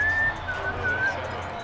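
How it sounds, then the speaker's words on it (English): A referee's whistle from the video game Madden NFL 20 sounds as a clear, fairly loud tone, one long blast followed by a few shorter, slightly wavering toots, over crowd noise and a low background rumble. "And whistle blown."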